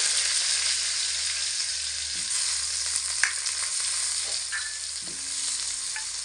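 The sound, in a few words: cut washed potato pieces frying in hot oil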